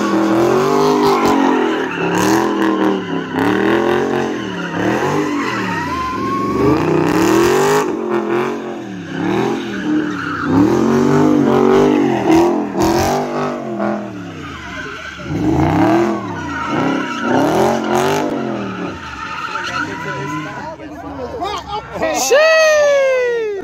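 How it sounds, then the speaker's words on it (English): Car tires skidding and squealing while drifting with traction control off, loud and close, with repeated engine revving swells and long screeching slides over about twenty seconds, ending in a sharp high squeal. "Just warming the tires up."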